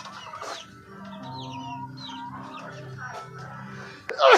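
Hens, including chocolate Orpington chickens, cluck softly and intermittently in a farmyard, close by, with a louder sharp squawk bursting out at the very end.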